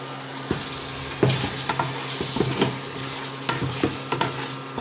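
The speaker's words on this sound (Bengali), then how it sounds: "মাছগুলো দিয়ে ভালো করে আমি এখন কষিয়ে নেব" Silver carp pieces are sautéed in a pan for muri ghonto. Repeated spatula scrapes and stirring knocks come close and fairly crisp over a soft, steady sizzle, with no talking.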